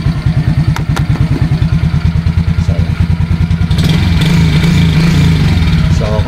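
Suzuki Raider J FI motorcycle engine running with no battery fitted, a close, steady, rapid idle putter with even pulses that swells into a rougher, louder revving near the end.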